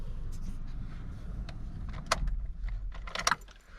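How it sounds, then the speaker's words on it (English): Keys to a Suzuki Vitara 1.4 Boosterjet Allgrip jangle up close in a quiet car, several bright metallic rattles bunched near the end. "Let's take the key."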